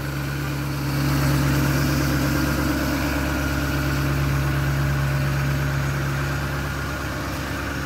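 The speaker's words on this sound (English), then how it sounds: "I started up the truck just so you could hear it running" An old work truck engine idles steadily after sitting for a couple of days, a constant low rumble with a droning hum that holds even and close throughout, no voices over it.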